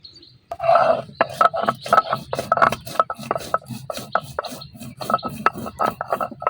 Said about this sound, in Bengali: এখন আমি অল্প একটু জিরা বাইটে নিলাম